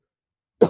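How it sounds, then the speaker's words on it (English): A single harsh, close cough bursts out after a stretch of silence, loud and abrupt with a short rough tail. "Oh man, that's a bad cough right there."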